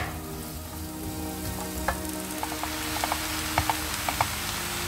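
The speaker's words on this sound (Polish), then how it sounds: "Mieszam i smażę." Chopped onion fries in a couple of spoonfuls of oil in a pan, giving a steady, dense sizzle with scattered light ticks and pops from stirring throughout.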